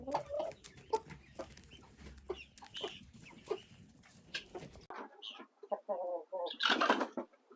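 A farm guinea fowl gives repeated loud, harsh clucking calls close by in uneven bursts, with scuffling and handling noise beneath them, and no talking.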